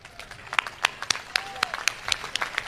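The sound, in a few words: audience clapping at a poetry recital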